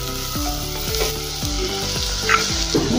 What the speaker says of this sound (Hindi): पहले हम गाजर डालेंगे बारीक कटा हुआ। शिमला मिर्च डाल देंगे। अच्छे से मिक्स कर लेंगे।